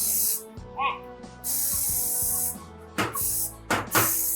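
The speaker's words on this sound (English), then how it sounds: "You want to spray your pan and get it ready?" Several short hissing bursts from an aerosol cooking spray can coating a baking pan, close up, separated by brief pauses and light clatter.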